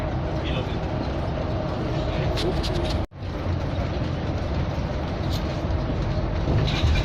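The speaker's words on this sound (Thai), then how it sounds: "รถทัวร์นี่คือรถทัวร์" Steady low engine rumble and road noise inside a moving tour bus, with a brief dropout partway through.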